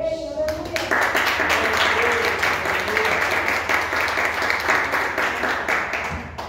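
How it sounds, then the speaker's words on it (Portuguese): A church congregation claps together during a Sunday service, a dense sustained wash of many hands with a faint voice calling out at the start. "Palmas para Jesus, irmãos."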